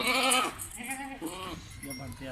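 A goat with two kids bleats on a farm, a loud, wavering call up close, followed by a few shorter bleats with a voice talking around them.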